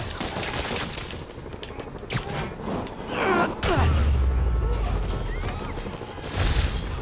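Enemy gunfire bursts in Marvel's Spider-Man on PS4, with repeated shots and booms over a dense game mix, one heavy impact midway and voices talking throughout.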